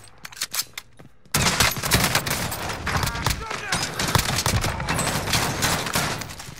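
Rapid, sustained gunfire from an online video game match in Plunder mode erupts after a brief quieter start, loud and continuous bursts filling the rest of the clip, with players' voices mixed in.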